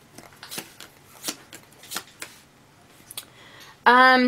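Quick riffling bursts of tarot cards being shuffled, repeated several times in a loose rhythm, ending with a louder tonal sound cutting in.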